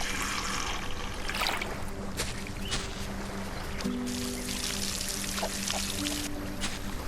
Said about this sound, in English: I just need to water all my plants.